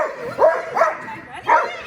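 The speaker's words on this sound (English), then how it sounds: "excuse the barking" A dog during agility play training gives three short, sharp barks spaced about half a second apart, fairly close and clear over a quiet background.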